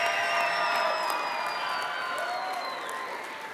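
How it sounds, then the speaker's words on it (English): A school fine arts festival audience applauds the middle school choir, band and orchestra with sustained, full clapping and some cheering that slowly fades. "Can we clap our hands for the choir, the band, and the orchestra?"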